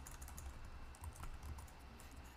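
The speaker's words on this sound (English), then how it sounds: "let me just type this first" Steady typing on a computer keyboard, a continuous run of light key clicks at close range with no talking over it.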